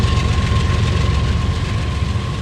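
A heavy freight train running in the Run 8 train simulator game on Cajon Pass, a loud continuous low rumble with a faint steady tone above it and no talking.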